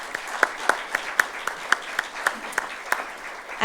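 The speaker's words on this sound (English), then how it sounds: "Let's have a round of applause for our partners." Audience applause for event sponsors at a business gathering, a short burst of claps with distinct sharp hand strikes ringing out over a steady crowd patter.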